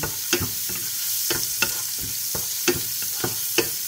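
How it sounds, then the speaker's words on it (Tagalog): Onion hits hot oil left from frying chicken, a bright steady sizzle punctuated by regular scraping strokes of a spatula against the pan, close and fairly loud, without talk. "dito sa pinagprituhan, lagyan na natin yung ating onion. Sa pinagprituhan natin ng chicken."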